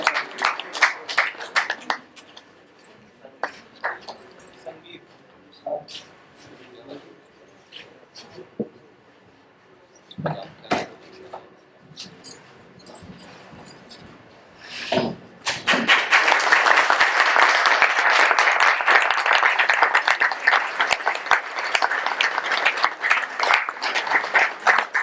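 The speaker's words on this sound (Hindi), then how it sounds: "एक बार जोरदार तालियां।" Loud sustained applause and clapping from a theatre audience bursts out and holds steady after a quieter stretch of scattered sounds, greeting the cast and crew at the close of a Hindi stage play.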